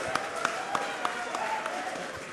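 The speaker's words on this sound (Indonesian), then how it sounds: "Mari kita berikan aplaus untuk semua dulu biar suasana lebih rileks" A debate audience in a hall claps, a steady scattered patter of many hands with a few sharper individual claps standing out at regular intervals, moderately distant.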